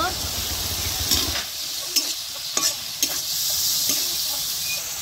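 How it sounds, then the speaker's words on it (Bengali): Spice paste with green chillies frying in a pan while being stirred, a steady close sizzle with the occasional scrape of a spoon, for a bottle gourd and pangas fish curry. "কাঁচা লঙ্কা দিয়ে আমি মশলা আর একটু কষিয়ে নিচ্ছি।"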